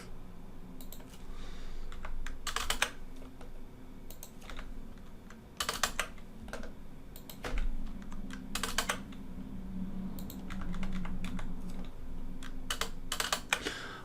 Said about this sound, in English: I've got to look at the keyboard when I press it